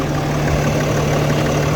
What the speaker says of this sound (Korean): 엔진 소리도 한번 들어보시면